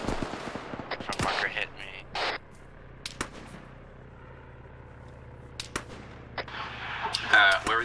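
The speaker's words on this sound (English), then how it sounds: "Mortar's gonna be sending rounds out to try and work on the tanks." Mortar and gunfire reports in the video game Arma 3, several sharp bangs scattered through the stretch with distant rumbling between, while people talk over radio-style chatter.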